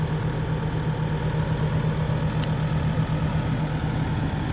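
A Sumitomo SH130-6 excavator engine idles steadily at a construction pit, a constant low rumble with an even hum throughout and a brief sharp click partway through.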